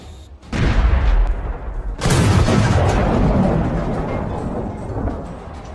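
Combat gunfire from troops in trench fighting near Avdiivka comes as two heavy, booming blasts with a sharp onset, each followed by a long rumbling roll, sounding loud and close with no voices.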